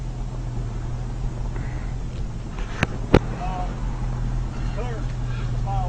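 Water-powered car driving along: a continuous low engine drone with road and wind rumble, a couple of sharp knocks, and someone talking over it.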